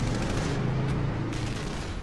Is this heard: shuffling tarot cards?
no